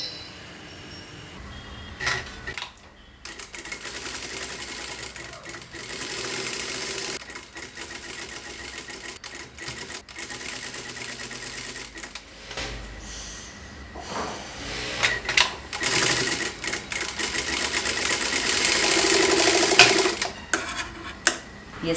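A sewing machine runs a line of stitching through a blouse lining, its motor whirring in long bursts that stop and start, with brief pauses and small handling knocks between runs and no talking.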